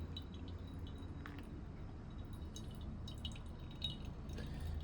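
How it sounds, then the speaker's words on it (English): Soft, sparse drips of water fall during pour-over coffee brewing through a quiet low hum, with a few faint splashes scattered across the few seconds. "Every 45 seconds we're gonna drop 45 milliliters of water."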